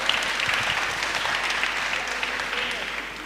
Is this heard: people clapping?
yes